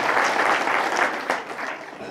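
A crowd at a temple inauguration bursts into loud, dense applause to welcome a swamiji, a continuous wash of clapping close by with no talk over it.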